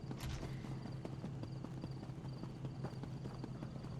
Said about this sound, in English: I think I might just use her to ride my horse.